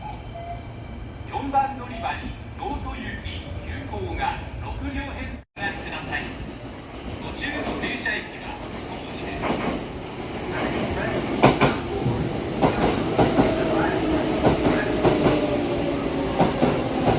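Keihan Railway electric train rolling past on the line toward Kyoto, a steady rumble with rhythmic clickety-clack of wheels building louder over the second half, someone speaking over it.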